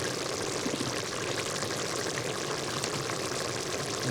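Water pours steadily into a pot at a cold night campfire, a continuous close rushing splash that fills the whole moment without talk.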